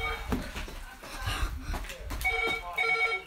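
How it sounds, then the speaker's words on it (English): A telephone rings indoors at home, its bell tones coming through under nearby talking. "No, not the phone."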